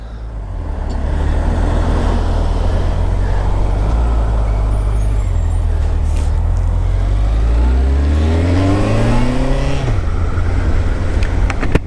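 A 2014 Honda CB1100 motorcycle being ridden: a steady, loud engine drone holds throughout, with the pitch dipping and then climbing sharply near the end as the revs rise and fall.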